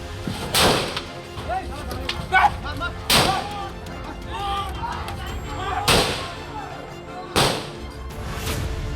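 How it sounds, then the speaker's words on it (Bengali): Police firing warning shots into the air to disperse protesters besieging a police station, heard as four sharp, loud cracks spaced a few seconds apart over a busy crowd murmur. "প্রতিবাদকারীদের হটিয়ে দিতে পুলিশ শূন্যে গুলি চালায়"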